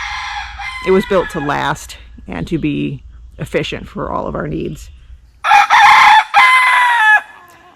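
A rooster crows loudly and close by near the end, a single drawn-out call after a stretch of talking near a backyard chicken coop.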